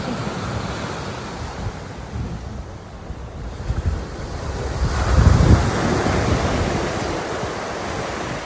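Sea waves wash and roar steadily at Paphos with wind buffeting the microphone, a surge of surf swelling midway before settling into a continuous rush.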